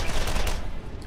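Rapid repeater pistol fire in the Borderlands video game, a dense, loud stream of close shots packed into about a second with no talk over it.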